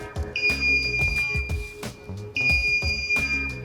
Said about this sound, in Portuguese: Então ele vai ficar tocando esse alarme até a gente configurar.